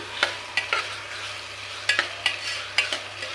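Pieces of vegetable and ginger paste are stirred in a pan, with a spoon scraping and knocking in a few clustered strokes over a low, steady background hum.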